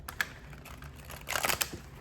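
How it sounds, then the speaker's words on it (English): Quick crisp riffling and flicking of cards being shuffled, a short burst of soft clicks growing busier near the end. "These are always so hard to shuffle."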